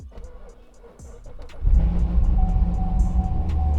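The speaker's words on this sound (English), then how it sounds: "Let's go ahead and start the car" A cammed LT1 Corvette Grand Sport cranks on a weak battery, then fires and settles into a loud, lumpy idle close by.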